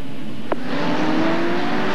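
Truck Series race trucks accelerating as the pace truck pulls off, a loud engine drone rising steadily in pitch after a sharp click, sustained and close.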